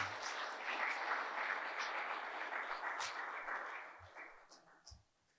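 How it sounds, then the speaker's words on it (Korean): Church congregation applauding to encourage a returning missionary, a soft, distant patter of clapping that swells, holds, then thins out into a few scattered final claps. "한번 박수로 격려해 주세요."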